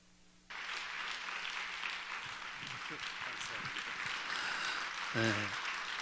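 Church congregation applauding as the pastor comes forward before a sermon, steady dense clapping filling the room at moderate level, with a brief voice near the end.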